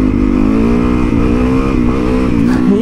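Trike engine running steadily while riding in a straight line on the street, a loud continuous motorcycle-style drone with smooth, even pitch throughout and a slight rise at the very end.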